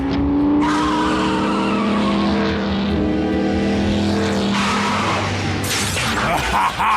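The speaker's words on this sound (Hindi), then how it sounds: "मैं इस इंजन की आवाज को अच्छी तरह पहचानता हूं।" An animated robot race car from Transformers: Prime roars past with a rising engine whine and tires squealing and skidding, loud and close throughout, ending with a sharp burst of noise.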